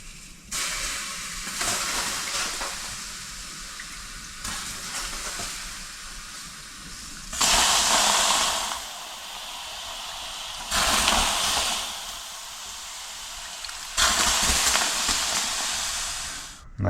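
Water with an herbal infusion is splashed onto hot sauna stones, each pour setting off a loud burst of hissing steam that fades into a softer sizzle; three strong bursts stand out over steady background hiss.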